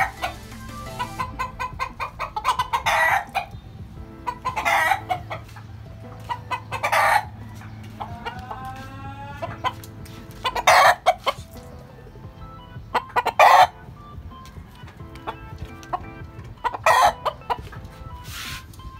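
Chickens in a rooftop coop cluck steadily close by, while a rooster crows loudly over and over at irregular intervals.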